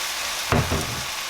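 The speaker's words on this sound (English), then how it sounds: "I'm going to give this a quick mix." King oyster mushrooms are stirred with curry and gochujang in a hot pan, a soft continuous sizzle broken by a short scrape and clack of the utensil, close and brief, with no voices.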